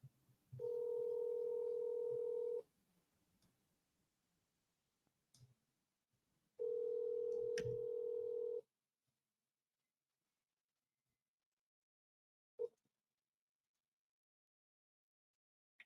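Two long ringback tones on a phone line, each about two seconds, separated by a quiet gap, with faint clicks between.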